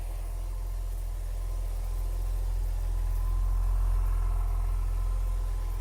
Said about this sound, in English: Let's hear the engine first.